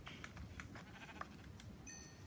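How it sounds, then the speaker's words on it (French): A sheep bleats in the video game Minecraft, a few faint wavering calls over a soft background murmur, quiet and somewhat distant, with a brief high tone near the end. "Un mouton."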